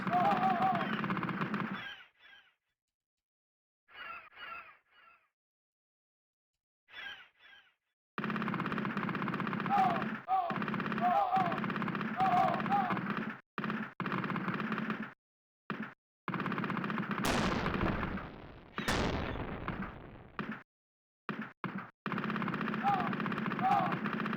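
Bursts of video-game machine-gun fire pump repeatedly into bodies, clustered shots separated by gaps of silence, loud and close, with sharp blasts near the middle.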